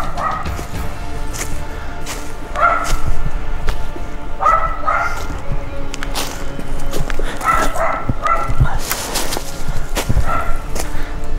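Several dogs bark repeatedly at a distance across open moorland at West Down, Buckland Monachorum, in scattered pairs of sharp yaps over wind noise and crunching footsteps.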